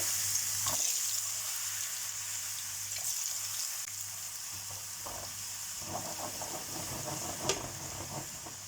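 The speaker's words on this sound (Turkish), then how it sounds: "Şimdi patateslerimizi kızartacağız." Potatoes frying in hot oil in a pan give a steady hiss and sizzle throughout, with a faint low hum beneath and a few soft clinks and stirring sounds, no voices.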